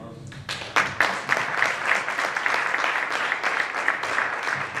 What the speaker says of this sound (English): And if you're clapping your hands